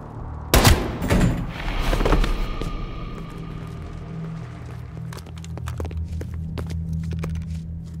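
Gunfire in Call of Duty Black Ops Cold War: a sharp, loud close shot, a few quick follow-up blasts, then a low rumbling hum with scattered small clicks and thuds.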